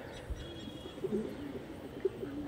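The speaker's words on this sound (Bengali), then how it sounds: "দেখুন পুরো কালদমা কোয়ালিটির পায়রা আছে" Low, soft cooing from black Kaldom-type pigeons kept for sale, a few short murmured coos rising over a steady background hum, close by.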